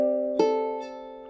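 Ukulele fingerpicked riff from the rock song Hand in Glove: a sustained ringing chord, then a freshly plucked note set near the middle that rings and fades, with a soft later pluck.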